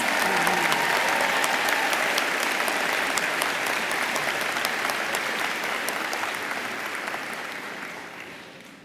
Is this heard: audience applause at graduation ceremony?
yes